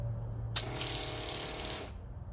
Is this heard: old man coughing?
no